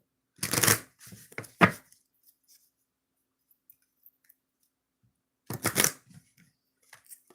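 Cards are shuffled in two short, quick bursts of riffling and flicking, separated by a few seconds of near silence.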